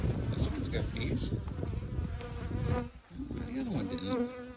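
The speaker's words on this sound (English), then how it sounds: "This one's got bees." Honeybees buzzing inside a winter hive during feeding, a dense, steady drone of many insects heard close up, continuous throughout with a brief dip near the end.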